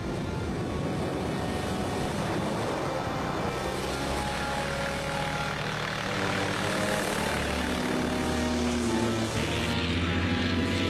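Steady, loud propeller drone from an early American torpedo bomber built of steel, aluminium and wood, capable of about 90 knots and fitted with floats or wheels. The engine roars continuously and close, with no talk over it.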